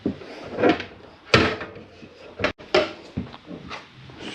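A drawer inside a 2022 Flagstaff 529BH travel trailer slides and bumps shut, with several sharp wooden knocks and rattles over a few seconds, close and fairly loud, no talking.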